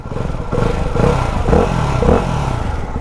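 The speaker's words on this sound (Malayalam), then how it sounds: "ദ മോസ്റ്റ് പവർഫുൾ സിംഗിൾ സിലിണ്ടറിൻ്റെ എക്സോസ്റ്റാണ് നിങ്ങൾ കേൾക്കുന്നത്." A Ducati single-cylinder motorcycle exhaust, billed as the most powerful single, barks through three close revving surges over a rough, steady thump, loud and with no talk.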